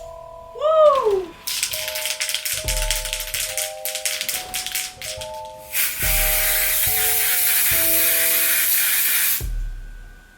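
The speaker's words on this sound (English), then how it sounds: "we have hairspray" Hairspray from a can hisses onto clipped-up hair in a run of short, rattly bursts, then one long continuous spray, with faint steady tones in the background.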